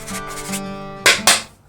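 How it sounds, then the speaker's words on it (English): A metal file rasps over the sharp cut edges of a homemade quail feeder in a few short strokes, the last two sharper and louder, close up. "We're just going to hit this with a file real quick on all these edges"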